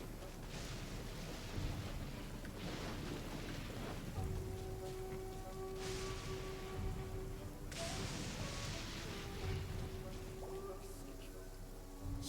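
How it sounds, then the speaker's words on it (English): Raiden Shogun's lightning attacks in Genshin Impact crackle and boom as thunder in repeated bursts over a hissing, rain-like wash, with a voice talking at times. "Stop with all the lightning."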